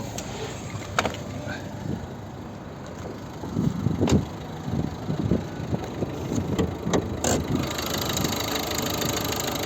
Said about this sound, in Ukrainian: йдемо подивимось під капотом, як працює двигун